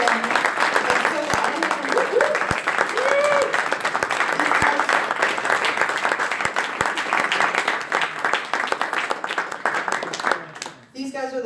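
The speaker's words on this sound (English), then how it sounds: "And I want you to clap so loud for them." Startup-event audience at an opening ceremony claps steadily for the organizing team on stage, a thick, even wash of crowd applause with scattered cheers and voices, fading briefly near the end as talk resumes.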